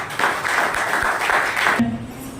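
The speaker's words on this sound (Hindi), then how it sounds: "एक बार सभी लोगों के लिए शानदार ताली होनी चाहिए।" Sustained applause from a seminar audience in a hall, a dense steady wash of clapping lasting nearly two seconds before it cuts off into a low hum.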